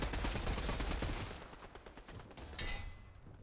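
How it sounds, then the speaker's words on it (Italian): Rapid gunfire bursts from a Fortnite match, dense crackling shots in quick succession at moderate distance, thinning out toward the end with a brief sharper sound near the close. "Io sento degli spari da qui"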